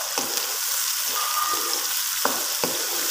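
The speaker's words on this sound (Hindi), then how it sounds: "ऑयल में मैंने प्याज ऐड किए हैं और प्याज अभी मैंने ब्राउन करनी है" Sliced onions fry in oil in a pan, browning for a potato and eggplant curry, a steady close sizzle broken by a few brief scrapes of a stirring spoon, no talking.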